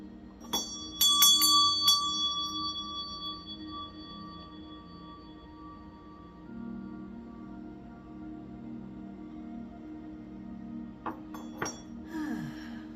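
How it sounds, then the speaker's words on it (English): A meditation bell rings with a bright metallic strike followed by a second quick strike, then a long fading hum. Softer rings and a faint scrape come near the end, with no talking. "I am going to ring my meditation bell"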